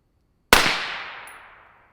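A single unsuppressed shot from a 5.56 rifle cracks out sharply after a moment of silence, loud and close, then decays into a long fading echo.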